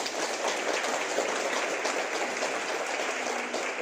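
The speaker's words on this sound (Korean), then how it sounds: "우리 박수 한번 감사합니다." A church congregation in Gwangju, South Korea, applauding the choir after worship; a continuous wash of many hands clapping at moderate distance, steady for several seconds with no speech over it.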